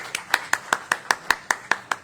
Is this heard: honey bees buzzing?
no